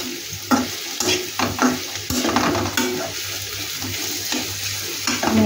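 Chicken with potatoes and onion frying in a pan, a steady sizzle with repeated stirring scrapes and clinks, close by, with a trickle of water in the background.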